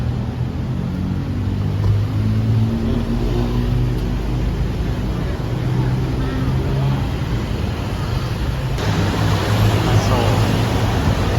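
Busy Thai street traffic of cars and motorcycles makes a steady, loud rumble of engines and tires, a constant wash of passing vehicles without pause.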